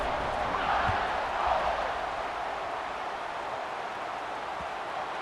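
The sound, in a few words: stadium crowd cheering in video game NCAA 26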